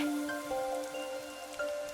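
Rain falls steadily over a dark city in the video game Master Detective Archive: Raincode, a soft, even patter that continues throughout under sustained musical tones.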